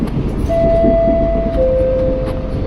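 A KRL INKA electric commuter train rolls into Pasar Minggu station with a loud, steady low rumble and wheel noise, and a long, sustained horn-like tone runs through the middle and end.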